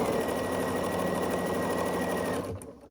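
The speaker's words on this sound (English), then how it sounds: "we're gonna sew along the side here with a 1/4 inch seam allowance" A sewing machine stitches quilt strips with a quarter-inch seam, a steady close mechanical whir for over two seconds before slowing and stopping.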